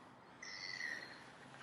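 A bird calls at a park lake with swans nearby, a brief thin high whistle-like call, fairly faint over open outdoor ambience.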